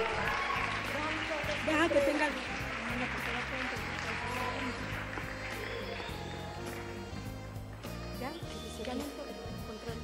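Audience applause at a women's leadership forum in Mexico, ongoing clapping over music, gradually thinning out toward the end.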